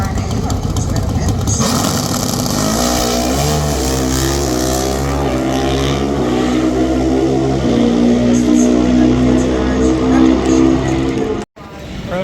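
Vance and Hines Redzilla pro stock drag race car roaring down the strip, a loud sustained engine note rising through several gear-like pitch climbs before cutting off abruptly near the end.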